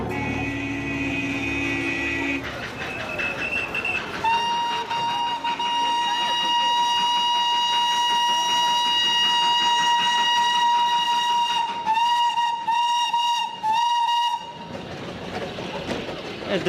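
Little toy train on a narrow Himalayan mountain railway, its steam whistle sounding long and shrill over rumbling wheels and track, loud and near, with a second whistle blast near the end.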